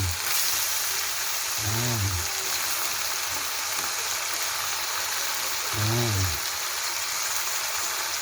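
Stalks of Baguio pechay fry in a hot pan with a steady, dense sizzle that runs throughout. Two brief voiced sounds rise above the frying along the way.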